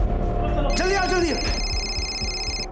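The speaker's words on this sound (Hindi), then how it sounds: "अरे ये फोन की आवाज आ रही कहीं से।" A telephone ringtone trills with a bright, steady electronic tone lasting about two seconds, heard close by alongside a voice.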